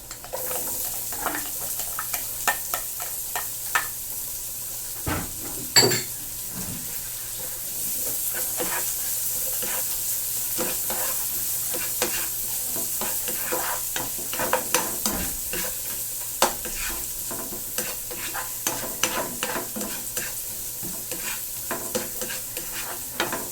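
Onion sautéing in a pan for duck kaldereta keeps up a steady sizzle for the whole stretch, broken by frequent clicks and scrapes of a spatula stirring, close and fairly loud, without talk.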